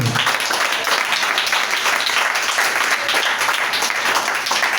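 A church congregation bursts into loud, sustained applause and cheering for Jesus, dense clapping from many hands that fills the room from start to finish.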